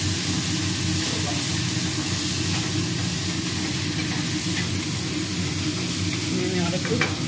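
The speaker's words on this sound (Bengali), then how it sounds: "আলু আর পেঁয়াজটা একটু ভাজা ভাজা করে নেবো।" Potatoes and onions fry in a wok while being stirred, giving a steady, close sizzle with occasional scraping that runs throughout.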